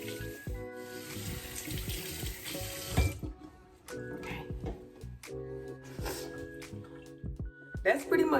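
A bathroom tap runs lukewarm to cool water as a face is rinsed, with splashes and a steady stream heard close, broken by pauses and under light music and talk.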